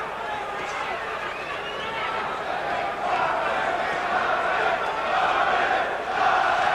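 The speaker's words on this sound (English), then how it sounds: "Crowd starts to chant Marvin, Marvin." Home arena crowd at a Marvin Hagler versus Fulgencio Obelmejias boxing bout chanting the fighter's name, a dense rhythmic roar of many voices that swells steadily throughout.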